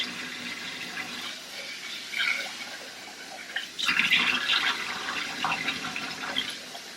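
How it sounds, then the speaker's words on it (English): Water running and splashing into a bowl of rice being rinsed, then poured out, in a home kitchen; a steady trickle builds to a louder gush midway, heard close with no talking. "I just fill it with water, and then I kind of let the rice settle, pour it out"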